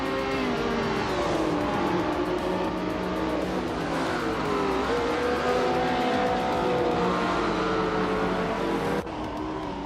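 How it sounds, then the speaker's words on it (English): Vintage ultralight race cars at the Oschersleben track in a racing game, engines droning and shifting pitch steadily as the pack runs close together, loud and continuous before a sudden cut near the end. "The vintage ultralights cars are closely matched, but the track at Oschersleben favors cars with good handling and agility"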